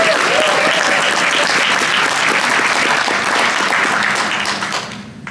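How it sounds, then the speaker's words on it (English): Conference audience breaking into sustained applause, dense clapping filling the room at steady volume before tapering off at the end. "So a big round of applause for Adam."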